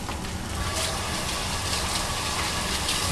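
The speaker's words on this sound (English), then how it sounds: "Rinse your hands." Water runs steadily from a tap while hands are rinsed in a kitchen, a continuous close broadband gush with no pauses and no talking.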